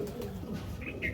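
Pigeons cooing at a pigeon seller's, soft low murmuring coos running steadily through the short stretch at moderate distance.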